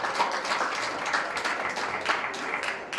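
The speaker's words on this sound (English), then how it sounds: "Let's give it a round of applause." An audience applauds at a Black History Month celebration held at the National Action Network's House of Justice, with steady clapping from many hands across a room and no pauses.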